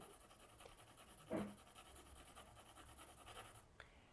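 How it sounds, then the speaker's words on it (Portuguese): Pencil rubbed back and forth across the back of a paper sheet, a steady rhythmic scratching in close quarters with one brief louder stroke partway through. "Primeiro passo é você virar a folha e você colorir atrás da sua figura. Então, você vai passar o lápis assim mesmo."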